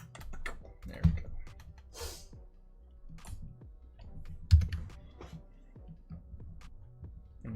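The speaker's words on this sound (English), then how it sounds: "getting a new clickety-clack keyboard" Soft typing on a computer keyboard, quiet and fairly close, with irregular bursts of key clicks and a few heavier taps. Room noise sits in the background.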